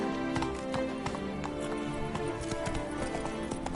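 Roach, Geralt's horse in The Witcher 3, gallops with quick, rhythmic hoofbeats. The clip-clopping is steady and fairly close, over a soft continuous background, with no talking.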